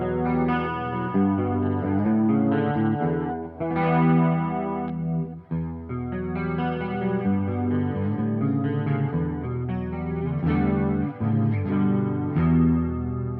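An electric guitar plugged into a Quad Cortex amp modeler plays chords and melodic phrases through an effects-laden tone, with chorus and light distortion, loud and close, continuous.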